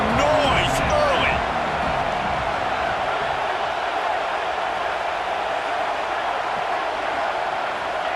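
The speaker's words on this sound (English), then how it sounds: "This crowd bringing the energy and noise early." A college football stadium crowd at Georgia versus Auburn, a dense, steady roar of many voices filling the space, with a few louder thumps and shouts in the first second before the wash of noise settles and holds.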